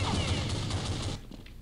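Rapid bursts of gunfire in the video game Counter-Strike, a dense loud volley for about a second before cutting off into quieter in-game background noise.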